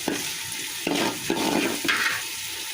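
Parboiled polao rice frying in oil in a pan, a bright hiss and sizzle with a few soft scraping strokes, no voices.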